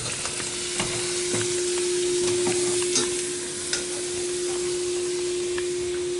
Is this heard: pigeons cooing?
no